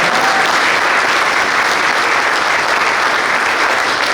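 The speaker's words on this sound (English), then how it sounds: "Give Wendy a round of applause as well." Loud, sustained applause from a banquet audience at a boys lacrosse team dinner, a dense continuous wash of clapping hands filling the room for the whole stretch without pause.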